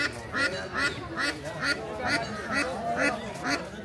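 Domestic geese and ducks call in repeated, evenly spaced honks and quacks at a busy Bangladeshi village market, heard close amid crowd noise and talk.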